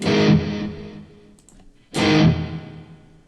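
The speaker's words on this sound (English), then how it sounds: "Let's see what the reverb's like." Two strummed electric guitar chords played through Audio Assault Blacksun, each ringing out and fading in a long, washy reverb tail, with a short pause between them.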